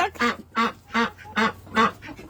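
Five loud, evenly spaced quacks from a duck on a homestead, close by and alone, each a short nasal burst with brief gaps between.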